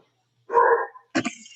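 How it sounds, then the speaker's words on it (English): A dog barks twice at a distance, two short separate barks with a pause between them, heard faintly in the background of an online call. "I can hear like a dog barking now"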